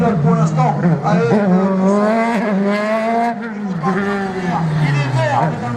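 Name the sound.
rally car accelerating and braking at slalom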